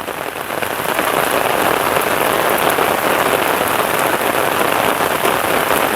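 Heavy rain pours down steadily in Phatthalung, Thailand, a dense, loud hiss of drops drumming on surfaces with no pause.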